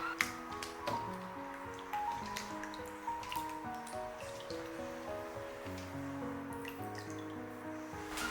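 Freshly peeled potatoes are rinsed under a running kitchen tap: a soft, steady trickle and splash of water with occasional drips and wet squishes, faint and close.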